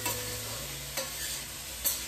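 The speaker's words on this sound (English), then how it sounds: "You hear that sizzle, sizzle?" Steady oil sizzle from vegetables frying in a pan, a continuous crackling hiss with occasional soft stirring scrapes.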